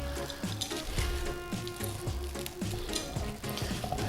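Ten plain, unsweetened biscuits crushed by hand for a Koko Samoa rocky road, giving a steady run of close, crunchy crackling and crumbling with repeated squeezing bursts and no talking.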